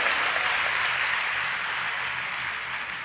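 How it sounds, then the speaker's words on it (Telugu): An audience at a Christian worship service claps steadily in praise, a soft, even wash of applause with no speech, slowly fading toward the end. "చప్పట్లు కొట్టి దేవుని మహిమపరుచుకుందాం మనం"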